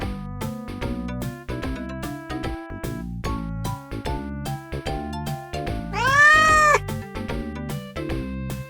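A cat lets out one drawn-out meow that bends upward midway, riding over a bright melodic backing of plucked, tinkling notes that runs throughout.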